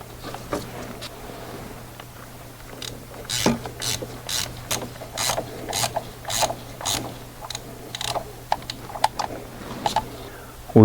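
A torque wrench ratchets while tightening a diesel injector on an Audi Q7, sharp clicking strokes in uneven bursts, close and fairly quiet over a low steady hum.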